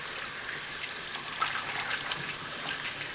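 Water from a bathroom tap pours steadily over soapy hands being rinsed, a close, continuous splashing rush with faint variations and no voices.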